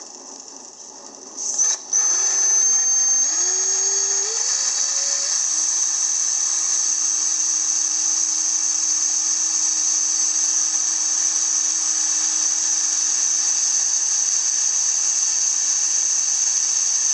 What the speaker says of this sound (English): Let's drill the peg holes